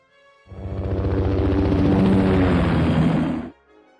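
A helicopter sound effect for the Jurassic Park Danger! game: a loud, sustained, pulsing rotor drone that starts abruptly, holds steady for about three seconds, then cuts off.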